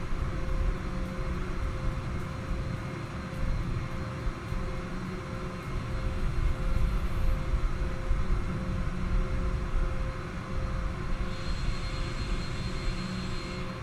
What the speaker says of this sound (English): we are taxiing now straight ahead, and we will also depart from this gate again